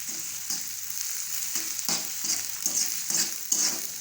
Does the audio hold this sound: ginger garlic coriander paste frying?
yes